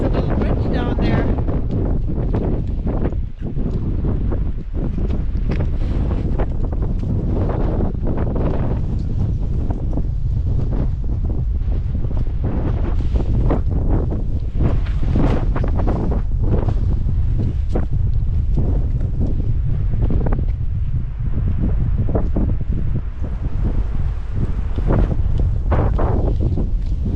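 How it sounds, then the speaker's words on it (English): Strong wind on a hilltop trail in St. John's buffets the microphone with a constant low roar throughout, burying faint voices beneath the rumble. "A little windy."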